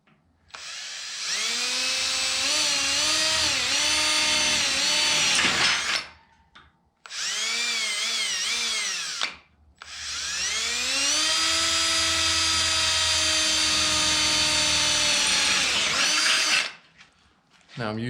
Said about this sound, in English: Quarter-inch drill bit.